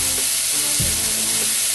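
Steak picado with steak seasoning and garlic sizzles steadily in a pan over medium heat, a close, continuous frying hiss with a few soft stirring bumps.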